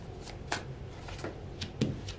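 Tarot cards are shuffled and drawn close by. A few crisp riffles and slaps sound over a quiet room, with soft sharp card snaps at irregular moments and no voices.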